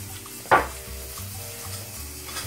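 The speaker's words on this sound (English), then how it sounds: "Put that in there and mix it up." A farro salad with leafy greens is stirred in a pan, giving a soft scrape and a brief louder clatter over a quiet, steady hiss.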